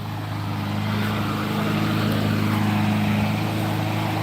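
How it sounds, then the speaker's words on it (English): Several neighborhood lawn mowers drone steadily in the background, a continuous low engine hum with a faint whine, constant and moderately distant, with no voices. "Everyone here is mowing their lawn"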